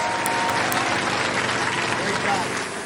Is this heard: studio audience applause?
yes